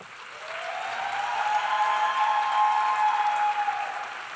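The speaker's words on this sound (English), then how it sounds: "They brought their cheering section." A crowd at a teacher-of-the-year award ceremony applauds, the clapping swelling to a full, dense roar that holds steady, with a faint tonal ring mixed into it.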